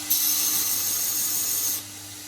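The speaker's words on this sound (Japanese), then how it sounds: "下から少し削って調整します。 ここに隙間があります。 60番のベルトで削っていきます。" A belt grinder with a 60-grit belt grinds down the thin tang of a rusty old kitchen knife, giving a loud, steady high-pitched abrasive whine that holds for nearly two seconds before cutting off.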